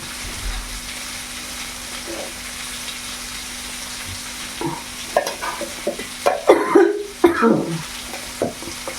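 Garlic and small onions (shallots) frying in a pan during dosa cooking, a soft steady sizzle that is joined later by a few stirring scrapes and clinks.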